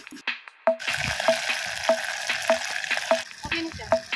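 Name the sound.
frying clams at a street stall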